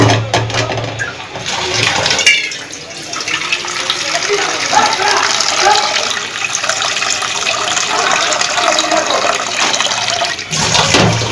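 Water pours into a pan of hilsa fish curry in a steady, loud gushing rush lasting several seconds, then cuts off, with brief speech around it.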